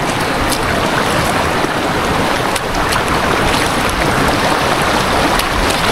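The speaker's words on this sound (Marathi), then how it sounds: "तिकडं पाण्याचा फ्लो थोडा जास्त आहे" Rushing water at a waterfall site in Jawhar roars as a loud, continuous broadband wash with no pauses, close and steady, with no talking.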